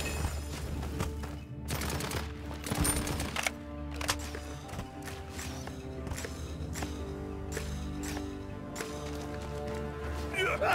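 Gunfire from Barik in the video game Paladins rattles in rapid repeated bursts over steady game music and effects, with in-game voices present throughout.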